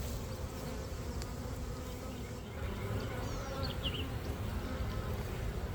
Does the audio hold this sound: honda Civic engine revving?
no